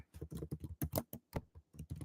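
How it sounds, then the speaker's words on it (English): Quick, light clatter of keys on a computer keyboard during a weekly planning livestream, a steady run of close taps in small bursts with brief pauses, no voices. "I'm going to type it in chat too."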